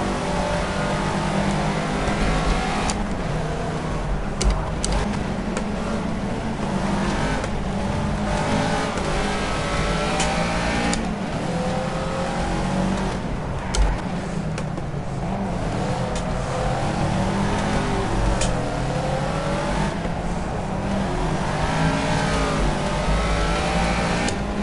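A Caterham Seven's engine revs and shifts through gears while racing around the Monaco street circuit in the Project CARS video game, a steady, loud and close engine drone that keeps rising and falling throughout.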